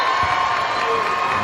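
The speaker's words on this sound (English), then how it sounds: "He gets a nice round of applause." Arena crowd at a men's college basketball semifinal cheering and applauding as a player leaves the game, a steady broadband roar with whoops throughout.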